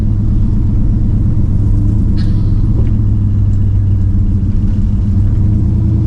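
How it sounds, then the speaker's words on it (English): Steady, loud low rumble of a Chevrolet Chevelle's engine while cruising on the road, a constant drone with road noise throughout and a faint tick or two, no talk. "Cruising in my Chevelle, in my Chevelle."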